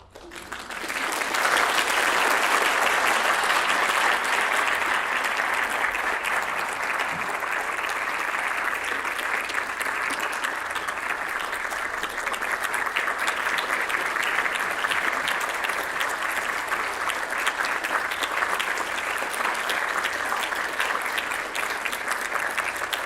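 Long, unbroken applause from a lecture audience in Katowice after architect Andy Bow of Foster + Partners speaks, a thick wall of clapping that swells quickly and holds steady for over twenty seconds.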